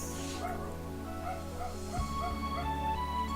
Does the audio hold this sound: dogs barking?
yes